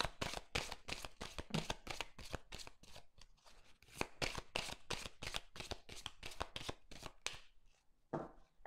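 Tarot cards riffled and shuffled by hand in a rapid, steady run of crisp flutters, close and loud, pausing briefly near the end before one last short burst.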